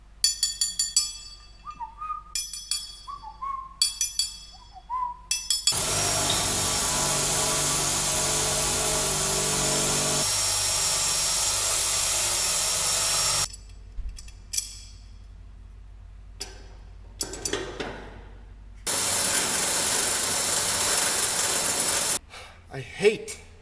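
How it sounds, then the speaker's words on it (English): A power drill bores holes into the box of a farm plot sprayer in two long, loud, steady whining bursts, with shorter tool squeaks and clicks at the start and in the gaps between them. "now we gotta drill some holes in the box."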